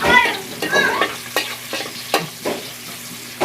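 Onion and tomatoes frying in a pan, a close sizzle punctuated by a series of sharp spatula scrapes and taps against the pan at a regular stirring rhythm.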